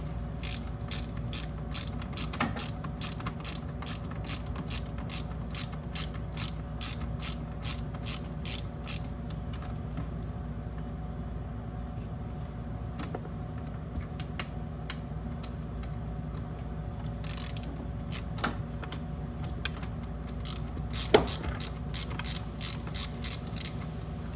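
A hand ratchet clicks in quick, even bursts while undoing the screws of the factory blow-off valve on a car's turbo engine, close and crisp, pausing between runs with light metallic handling in between and no talking.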